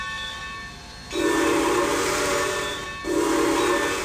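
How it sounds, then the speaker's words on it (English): Steam whistle of a light Pacific locomotive in Trainz 2022, two sustained loud blasts with a brief gap between them, heard alone over rail ambience. "I like this whistle better."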